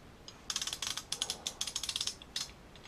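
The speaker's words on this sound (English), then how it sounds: "we're set at 45 pounds on the torque wrench" A torque wrench set to 45 pounds clicks steadily as it tightens a rifle barrel, producing a quick, even run of close ratchet ticks in two bursts, fairly quiet and with no voices.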